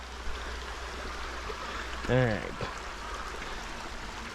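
A river stream flows in a steady broadband rush throughout while someone talks briefly over it near the middle.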